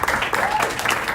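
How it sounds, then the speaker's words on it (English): An audience at an actors' conversation event applauds a painter, a brief steady wash of clapping with a voice heard over it. "give it a round of applause to Pablo"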